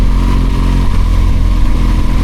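Loud engine of a BMW R1200GSA motorcycle, a deep throbbing boxer rumble held at a steady, strong level, heard up close with no voices over it.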